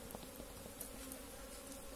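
Honeybees from a two-storey hive just out of winter, opened for inspection and somewhat agitated by cold weather, buzz in a steady, dense drone. Many wings hum together close by with no pauses.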